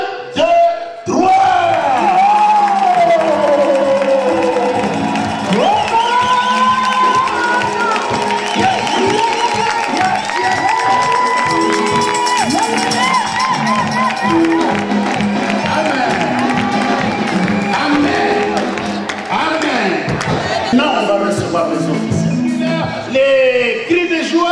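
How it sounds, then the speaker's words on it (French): Crowd at an ordination ceremony raising loud, sustained cheers and shouts of joy, a dense roar of many voices with whoops rising over it for over twenty seconds. "Les cris de joie, les acclamations, nous allons les montrer maintenant"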